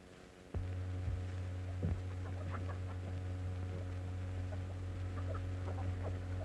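Chickens cluck in short scattered calls over a steady low electrical hum, fairly close, with no talking.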